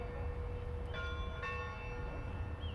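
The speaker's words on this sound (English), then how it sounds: "Church bells, which I think are very beautiful." Church bells ring out steadily with sustained, shimmering tones over a low background rumble, the peals overlapping and swelling at intervals.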